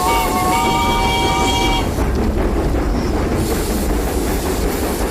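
A steam locomotive runs along a railway at Perus, São Paulo, in a loud, continuous rumble; a whistle sounds at first, then cuts off after about two seconds while the heavy rolling noise carries on.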